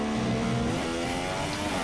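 A Formula 1 car in the F1 2017 racing game, at the Australia track, roars past with a loud, sustained high-revving engine whine that sweeps in pitch over a short burst.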